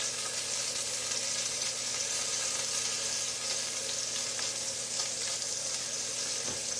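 Bacon crackles and sizzles steadily in a hot pan, cooked extra crispy, a constant close hiss with small pops running throughout, no talking.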